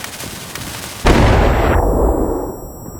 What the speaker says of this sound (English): if the explosion audio is too loud for our play character